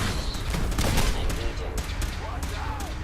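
Gunfire crackles through a firefight in Fallout 4, a rapid burst of loud sharp shots with dense noisy bangs, mixed with other game sounds and effects.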